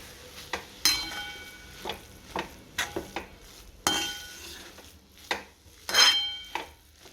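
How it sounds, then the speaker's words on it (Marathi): Carrots for gajar halwa are sautéed in ghee, heard as a soft sizzle under repeated sharp metallic scrapes and clinks of a utensil against the pan, coming in irregular bursts. "तुपात परतून घेते."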